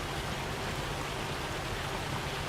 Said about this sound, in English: Oh, bit of hail.